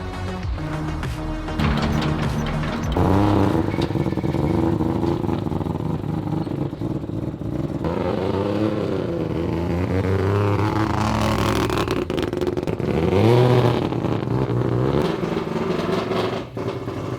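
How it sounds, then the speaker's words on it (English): A turbocharged three-rotor Mazda RX-7 rotary engine runs and revs hard, loud and close, with repeated surging throttle blips and a buzzy, raspy drone that climbs and falls throughout. "It's time to see what this engine can do."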